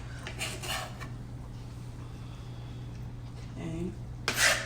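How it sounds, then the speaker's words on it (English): Ingredients for a loaded lasagna get stirred in a cooking pot, a soft continuous scraping with a brighter clink of utensil on metal near the end. "So I'm going to add these to the pot, and I'm going to mix them well"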